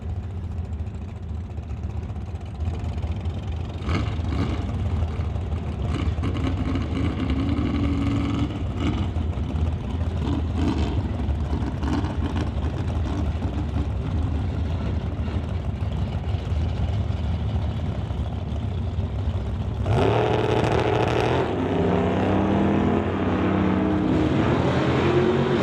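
Drag racing cars, the Quality Racing Duster against a Malibu, engines idling and revving at the track, with a loud surge of acceleration near the end.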